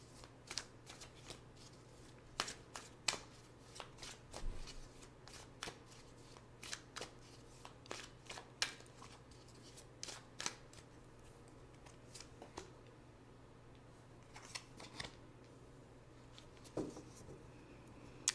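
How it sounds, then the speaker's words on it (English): Tarot cards shuffled and picked by hand, a long run of crisp riffling snaps and papery slaps at irregular intervals, close and fairly quiet over a steady low hum, no talking. "Now let's pick two cards for guidance."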